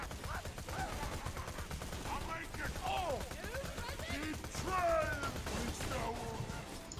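Rapid gunfire and weapon impacts in the video game Borderlands 2, dense and continuous throughout, mixed with game sounds and a player's voice talking over the action.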